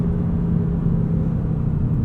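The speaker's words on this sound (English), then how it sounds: "There's enough drama here, turbo noise, engine sound, shifting happening to keep you entertained." A 2025 Audi S3's turbocharged engine drones from inside the cabin while driving, a loud steady low rumble with a constant hum and no voices.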